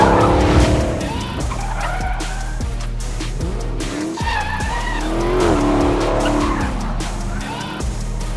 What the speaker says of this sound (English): The Hellcat loves to go sideways